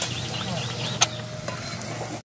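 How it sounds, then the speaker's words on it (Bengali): Puri made from maida flour fry in hot white oil with a soft, steady sizzle, broken once by a sharp clink, close and continuous. "এখানে আমি সাদা তেলে উপর দিয়ে ভেজে নিচ্ছি।"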